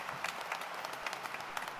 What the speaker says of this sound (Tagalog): Sabay-sabay natin siyang bigyan ng palakpak ng papuri at pasasalamat